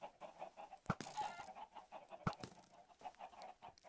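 Chickens in the Minecraft video game give short, quiet clucks and squawks, spaced a few at a time, with two sharp hit-like clicks between them.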